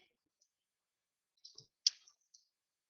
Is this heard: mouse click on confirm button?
yes